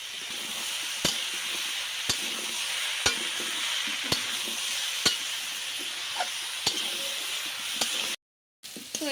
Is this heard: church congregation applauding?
no